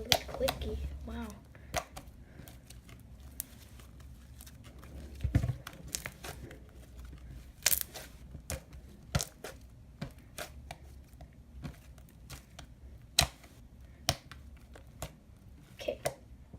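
Sticky, clicky slime being kneaded and squished by hand, a quiet stream of sharp little clicks and pops in irregular rhythm, close up, without talking.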